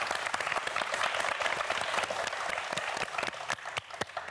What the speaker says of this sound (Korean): 자, 박수 한번 보내주세요